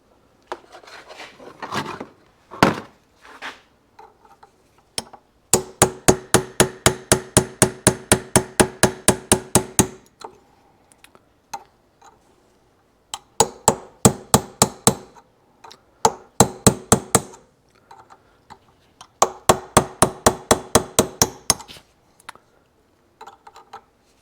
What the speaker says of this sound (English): So we just keep tapping.